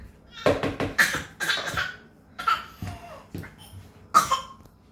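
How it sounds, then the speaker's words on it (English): A woman coughs in a series of sharp, close bursts, several in quick succession and then spaced apart, loud and alone. "You're in a coughing mode recently."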